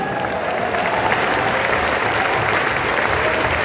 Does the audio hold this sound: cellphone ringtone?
no